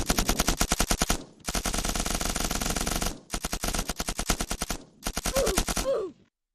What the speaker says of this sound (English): a much more heavy gun and only has automatic, and it has a 200 round mag